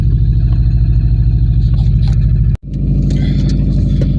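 A cold Subaru STI engine hums steadily at low revs while driving, with a brief dropout around a gear change before the drone returns, loud and close, with light rattles above it.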